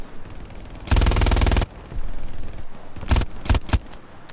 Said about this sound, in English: even mounted, you get a lot of kick with the machine gun